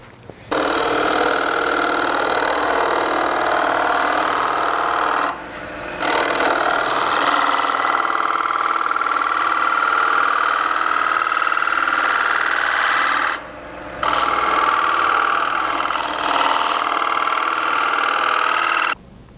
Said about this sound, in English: Little bit of a shear scrape down here and a push cut up here cleaned up that surface very well.